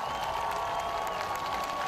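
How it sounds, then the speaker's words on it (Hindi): A crowd gathered before a big outdoor screen in Tel Aviv applauds during Zelensky's speech, a steady distant wash of clapping and crowd noise. "बीच में लोग तालियां बजाते भी दिखे।"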